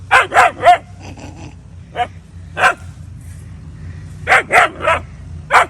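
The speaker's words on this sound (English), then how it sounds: "She barks at everything she doesn't like or it's new" A dog barks in quick bursts of two or three, loud and close, with a pause and a lone yip between groups.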